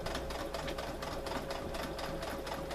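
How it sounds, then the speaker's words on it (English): A sewing machine stitches bikini pieces together in a steady, fast, continuous mechanical whir that stays close and even throughout, with no talk. "So we're just sewing together the other other piece to the top"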